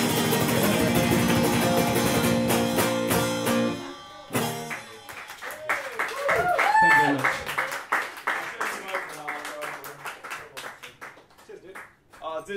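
Applause at an open mic night follows music, with dense clapping from the audience building and then thinning out, mixed with some cheering and voices.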